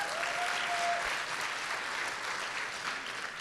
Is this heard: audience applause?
yes